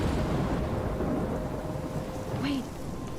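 A thunderstorm rages in the video game Life Is Strange, with a loud, continuous wash of rain and rumbling thunder, steady throughout and easing slightly near the end.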